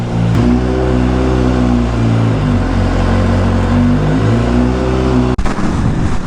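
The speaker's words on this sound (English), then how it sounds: "Actually, it doesn't sound too bad for a bike with just a slip-on." A motorcycle with a slip-on exhaust revs loudly and close, holding a steady, throaty, high drone for several seconds, then drops off abruptly near the end.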